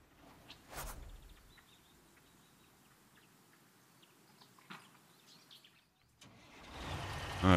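In the Construction Simulator video game, a vehicle engine starts automatically with a rising mechanical roar near the end. Before it, a quiet stretch holds faint chirps and brief clicks.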